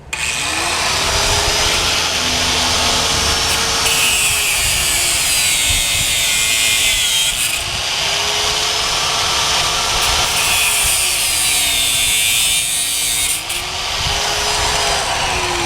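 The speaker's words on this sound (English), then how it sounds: "I just grind through. I cut these two real quick." Angle grinder cutting through tomato cage wire, a loud, steady, close whine with a wavering pitch that runs continuously for the whole stretch, with no talk.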